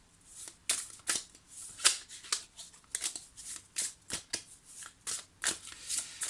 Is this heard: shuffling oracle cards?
yes